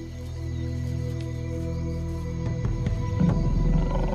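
Deep, drawn-out low roar of a lion in African wild dog territory, a sustained tonal rumble that swells and grows rougher toward the end.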